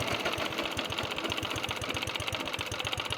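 A vintage cylinder lawn mower's small engine runs fast and close, a dense rapid even chatter with a buzzy exhaust note, steady and loud throughout.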